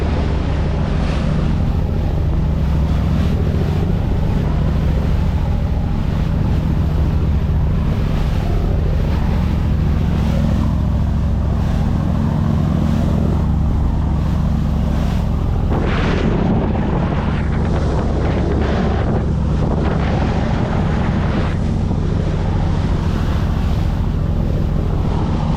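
Boat travelling across open sea, a loud steady engine drone under heavy buffeting wind and rushing waves, continuous throughout with occasional splashing surges and no voices.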